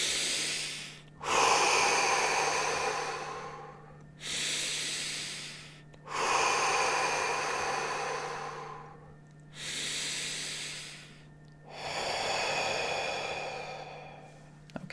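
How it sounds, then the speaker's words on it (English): A person takes three slow, deep breaths in and out during a guided healing meditation, each long airy inhale and exhale audible and close, separated by brief pauses, with a faint steady hum underneath and no talking. "let's take 3 deep breaths in and out"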